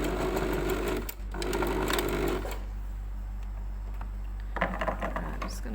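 A sewing machine stitches the two sections of a bag strap: a steady, close mechanical whir for about two seconds, a brief pause, a short burst more, then near quiet before a few small handling clicks.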